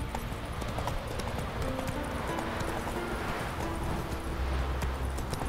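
Roach the horse galloping in The Witcher 3, rapid clip-clop of hooves under a busy game soundscape, steady and moderately close.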